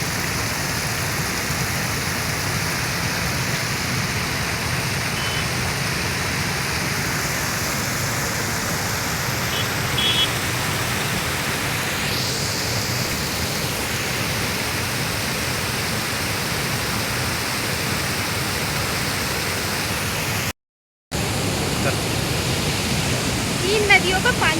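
Water from three rivers meets and flows on a rainy day, a steady, close rushing hiss that stays even throughout and drops out once briefly near the end.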